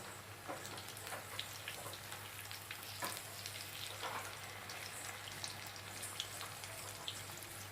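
Green chillies coated in gram flour fry in hot oil with a dense, continuous crackle and fine popping, close and fairly quiet, with no voices.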